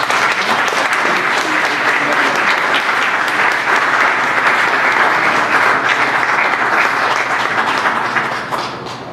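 An audience applauds steadily to welcome lecturer Professor Cohen at Princeton, a dense, even clatter of many hands that holds loud for about eight seconds before starting to fade.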